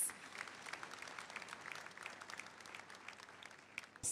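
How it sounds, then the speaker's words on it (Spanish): A church congregation claps together at a prophecy service, a faint, distant wash of applause lasting a few seconds. "Una vez más, vamos a aplaudir a Jesús."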